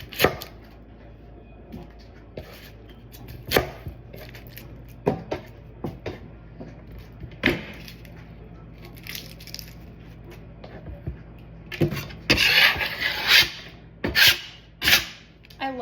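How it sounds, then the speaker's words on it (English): A knife thinly slicing half an onion on a cutting board: irregular sharp thunks and taps spaced out, then a quicker dense burst of chopping and scraping near the end, close and crisp, without speech. "Thinly slice your onions."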